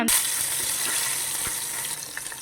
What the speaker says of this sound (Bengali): নুন হলুদ দিয়ে আমি এটাকে মাখিয়ে নেব, দিয়ে সিমটা আমি ভেজে নেব।